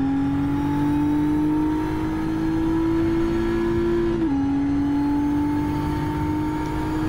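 Race car engine at Fuji circuit accelerating hard out of a corner, a loud steady high-revving drone that climbs in pitch, dips briefly at a shift, then holds on; no voices.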